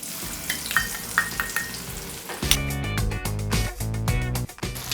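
Sliced onions hit hot oil in a kadhai and fry with a steady sizzle, close by. Rhythmic background music with a beat grows loud partway through and partly masks the frying. No one speaks.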